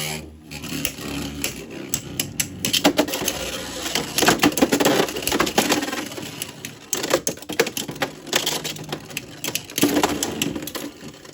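Beyblade X tops Bullet Griffon and Dran Strike clash in a plastic stadium, a busy run of sharp clicking and rattling impacts with scraping spin, repeating in bursts over about eleven seconds, with people talking in the background.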